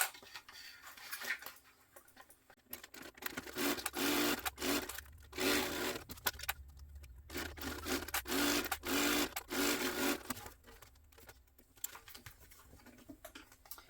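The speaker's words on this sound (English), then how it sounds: "we're going to sew across the top per the seam allowance in the pattern" A sewing machine runs in short repeated bursts as it sews clear vinyl to a jelly strip for a clutch bag, with quick rhythmic stitching that starts and stops between brief pauses. It stays close and moderately quiet, with no voices.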